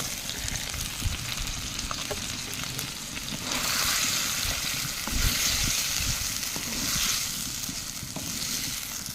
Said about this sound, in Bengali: কিছুক্ষণ ভালোভাবে এইভাবে নাড়াচাড়া করে কষিয়ে নেব এঁচোড়টা